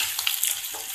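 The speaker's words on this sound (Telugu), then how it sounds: "ఆనియన్స్ ఫ్రై అయ్యాయి కదా, చిక్కుడుకాయలు యాడ్ చేసుకుందాం." Broad beans tipped into a pan of frying onions for a bean and tomato curry, giving a brief, loud, hissing sizzle with a little stirring clatter.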